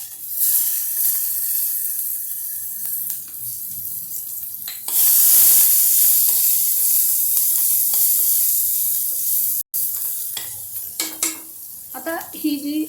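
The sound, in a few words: onion frying in a pan for chivda misal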